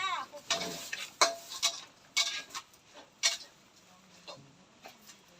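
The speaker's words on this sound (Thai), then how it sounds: "กำลังผัดข้าวนะครับ" Rice being stir-fried in a pan, a series of close, irregular scraping and tapping strokes of a spatula against the pan over soft background sizzle.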